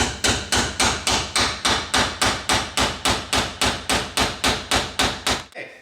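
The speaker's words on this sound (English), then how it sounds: "Then we just pound this right back in." Steady hammer blows pound a part back into a Camaro door hinge, about nineteen sharp, evenly spaced strikes in a brisk rhythm, loud and close, with no talking.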